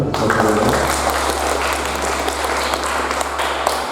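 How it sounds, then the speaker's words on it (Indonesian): Audience applause at a teachers' and staff retreat at a Catholic high school, a continuous wash of clapping lasting several seconds over a steady low hum. "Kita beri tepuk tangan ya"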